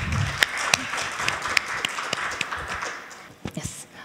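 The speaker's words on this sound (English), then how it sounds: "Please give her a big round of applause." Audience applause as a speaker is welcomed to the stage at a tech conference session, scattered sharp claps over a thinning patter that trails off near the end.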